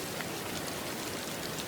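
Rain patters on a surface in a constant soft wash of drops, even and unbroken, with nobody speaking.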